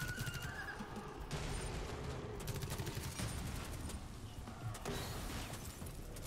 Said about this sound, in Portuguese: tem um cara atirando aqui